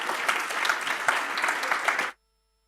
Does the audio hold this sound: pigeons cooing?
no